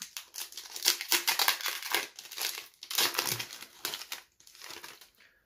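Crinkly plastic foil of Japanese Pokémon VSTAR Universe booster pack wrappers being torn open and handled, a steady stream of close, loud crumpling and crackling with short pauses, no voices.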